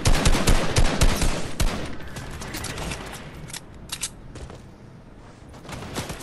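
Gunfire in the battle royale game Fortnite, with rapid, loud sharp shots crackling in bursts near the start, then thinning to scattered, quieter reports and a few isolated cracks.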